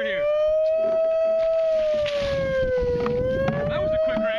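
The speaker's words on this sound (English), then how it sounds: "I hear the sirens." A steady wailing siren rises and falls slowly, loud and sustained, with wind noise and muffled activity in the background.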